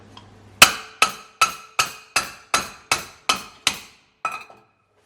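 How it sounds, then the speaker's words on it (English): A pan strikes the back of a kitchen knife to chop through turbot bones, nine sharp, ringing metallic knocks at a steady, close rhythm, the last one softer. "If you haven't got a meat cleaver, a pan on the back of the knife."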